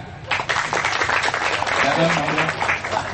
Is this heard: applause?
yes